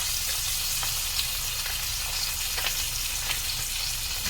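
Gravy heating in a saucepan over medium heat on the way to a boil, giving a steady, close sizzling and bubbling hiss with small pops and no voices.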